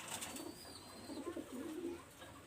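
Teddy pigeons giving soft, low cooing phrases, a few short rolling coos close by against a quiet background with faint high tones.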